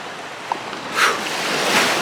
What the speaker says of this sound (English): when there's waves like this